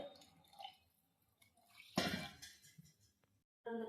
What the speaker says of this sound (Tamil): இப்போ 1/4 சொம்பு தண்ணி ஊற்றுறேன்.